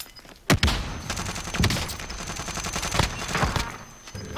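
Gunfire crackles in Call of Duty Warzone on Rebirth Island, several sharp close shots and bursts scattered over a few seconds against a busy game background.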